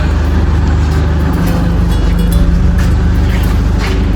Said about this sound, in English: This is that exact same truck, 10-ton truck.